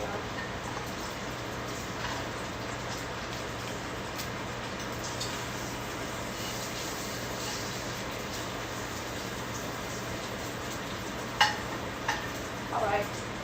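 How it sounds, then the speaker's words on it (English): Bacon sizzles and crackles steadily in a pan, a soft continuous frying hiss with a couple of faint utensil clicks near the end, no talking. "Let me flip my bacon. Don't want to burn anything."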